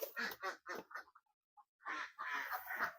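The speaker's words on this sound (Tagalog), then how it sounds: "Nandyan sa labas ang aming mga itik." Several ducks quack outside on a Philippine rice farm, a burst of close, loud calls followed by a short pause and another dense run of quacking.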